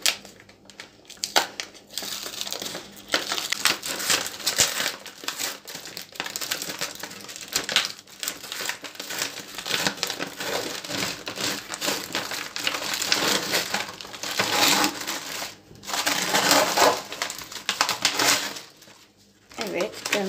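Plastic packaging around a frozen cheese börek crinkles and crunches as it is torn open, a steady close-up rustle with brief pauses, while a person talks over it.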